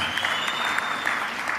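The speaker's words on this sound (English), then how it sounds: "Now that deserves a round of applause." Audience applause at a Freedom Day political rally on unemployment, a dense steady wash of clapping with a few louder claps standing out, heard alone with no talk.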